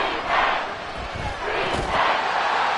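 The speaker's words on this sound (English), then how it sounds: "The Arrowhead crowd in full roar." A football stadium crowd at Arrowhead roars in a loud, steady wash of cheering, with crowd noise surging and dipping slightly throughout.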